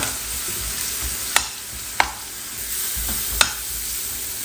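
Paneer sautéing in an oiled pan with salt, turmeric and coriander powder for paneer khurchan: a steady sizzle throughout, with three sharp spatula clacks against the pan, no voices.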